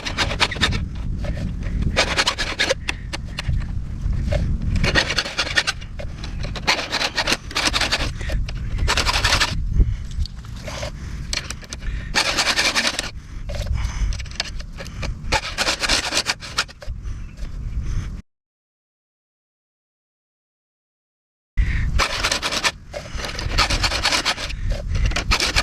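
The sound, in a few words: filing chainsaw chain with STIHL filing guide sharpener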